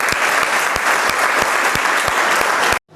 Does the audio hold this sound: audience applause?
yes